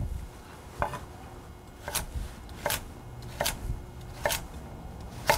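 A knife chops vegetables into cubes on a board, giving about seven crisp, close knocks at an uneven rhythm over a quiet kitchen background.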